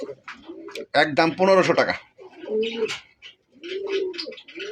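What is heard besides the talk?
male pigeon cooing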